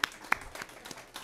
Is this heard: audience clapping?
yes